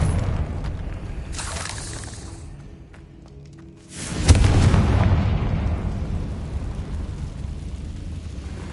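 A Confringo fire spell blasts in the Hogwarts Legacy video game on PS5, a single loud booming explosion midway that rumbles and fades slowly, with quieter game ambience before it.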